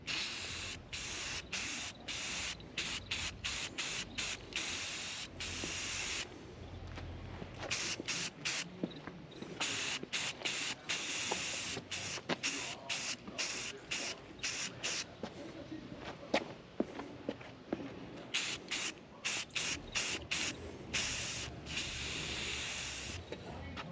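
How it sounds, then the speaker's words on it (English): Spray paint hissing from a rattle can onto a part of a 1978 Datsun 620 pickup, in many short bursts with brief gaps, steady and close, with no voices. "We'll go ahead and rattle can it."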